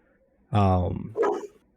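A dog lets out two quick barks close by, the first sharp and loud, the second shorter, with room quiet around them.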